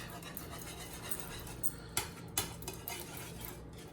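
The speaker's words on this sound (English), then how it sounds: "I'm going to whisk all that up and make it really, really, really yummy" Potato soup being whisked in a pot, a quiet, continuous scraping swirl of a metal whisk with a couple of sharper clinks against the pot's side, close but faint, no talking.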